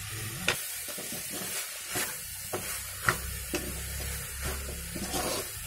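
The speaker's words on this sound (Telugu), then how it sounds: "కొంచెం బాగా వేగించుకుందాం." A dal mixture frying in a pan, with steady sizzling and occasional stirring scrapes, close and moderately loud with no talk.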